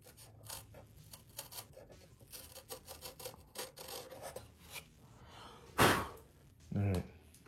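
A piece of wood is being shaved down by hand with a blade, making a run of short, rhythmic rasping scrapes close to the microphone, followed by a couple of louder strokes or breaths near the end.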